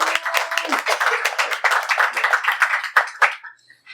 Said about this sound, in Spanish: Un fuerte aplauso para Héctor, que nos va a presentar.